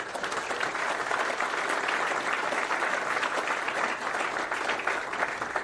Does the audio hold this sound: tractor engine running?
no